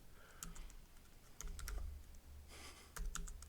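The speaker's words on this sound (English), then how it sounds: "If I can type exit correctly" Fingers typing on a computer keyboard in short bursts of quick clicks, separated by brief pauses, close and fairly quiet.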